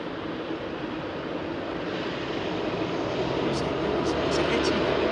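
Etihad jet departing Heathrow Airport at night: a steady, broad roar of jet engine noise holding level and swelling slightly toward the end, heard from a distance with faint high whines near the close.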